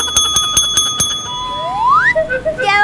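A bell rigged as a fake doorbell rings loudly in five quick, evenly spaced bright strikes, then gives a rising electronic chirp and a few fluttering tones. Nobody speaks.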